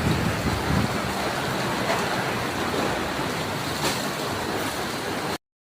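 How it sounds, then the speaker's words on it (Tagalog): Heavy rain roars down in a broad, loud, constant wash of noise that runs without pause before cutting off abruptly. "Grabe ulan."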